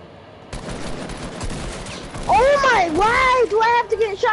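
Gunfire bursts from a shooting video game, rapid shots over noisy game audio, with a player talking over the action close to the mic.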